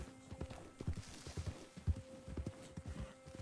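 Horse hooves clip-clop in Red Dead Redemption 2, a steady walking rhythm of muffled hoof strikes over a soft low hum, moderately quiet with no talk.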